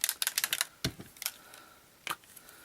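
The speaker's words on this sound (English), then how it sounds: "because there is a mixing ball in there, you can shake this one" A spray bottle of paint-resist liquid with a mixing ball inside is shaken hard, giving a quick run of sharp rattling clicks, a pause, then a few more isolated knocks, close and alone.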